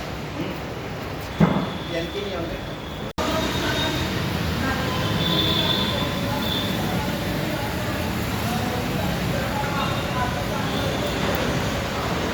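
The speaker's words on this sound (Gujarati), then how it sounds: "આપ જોઈ રહ્યા છો ઉપર મેટ્રો ટ્રેન જાય છે" A metro train rumbles along an elevated track overhead, its steady roar and wheel noise filling the scene from about three seconds on, preceded by quieter street ambience with a brief knock.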